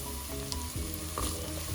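Carrots fry with onions and spring onion whites in a pan, a continuous close sizzle with a few soft stirring scrapes, no talking.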